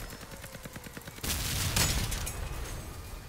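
A Pulsar plasma gun fires in the Crossout vehicle combat game, a sudden loud blast cutting in after a run of quieter rhythmic mechanical pulses, then a dense burst of crackling impacts that sustains and slowly fades.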